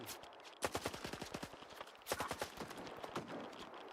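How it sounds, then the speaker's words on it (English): Rapid automatic gunfire in the video game Stalker 2, with shots aimed at a wall, comes as two close bursts of sharp, evenly spaced shots separated by a short pause. "Why are you just shooting a fucking wall?"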